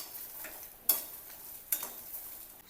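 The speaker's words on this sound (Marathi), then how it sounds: "शेंगदाणे भाजून घ्यायचे। शेंगदाण्यासोबतच मिरच्या पण भाजून घ्यायच्या।" Peanuts and green chillies dry-roast in a hot kadhai on a gas stove: a faint, soft scraping stir runs throughout, broken by two sharp clicks of a spoon against the pan.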